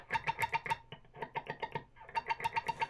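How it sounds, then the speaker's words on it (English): Rapid picked electric guitar notes with scratchy string and pick noise, played between the middle and neck pickups, a fast repeating pattern that pauses briefly, then resumes. "So all that extra string noise when you're between the middle and the neck pickup."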